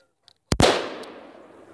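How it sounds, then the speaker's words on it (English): A single sharp gunshot from an AR-22 rifle fired at a target outdoors, a loud crack followed by a short fading echo, with faint small sounds just before. "Shoot the target again."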